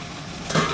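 A lidded pan of mussels and cockles in white wine gets a quick shake, with a brief metallic clatter and rattle at the end after a moment of low sizzling.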